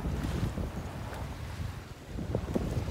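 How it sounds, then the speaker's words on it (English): Light wind buffets the microphone aboard a sailboat at sea in calm conditions with small waves, a low rumbling gusty rush that swells and eases over a few seconds with no voices. "luckily it's not a strong wind and there aren't big waves"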